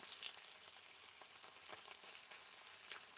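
Canned corned beef hash browns in a hot pan, giving a faint, steady sizzle with scattered crackles and a few sharper pops.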